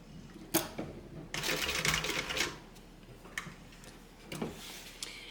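Sewing machine stitching a welt zippered pocket on a bag, close rapid mechanical whirring and ticking in bursts, with pauses and handling clicks between runs of stitching.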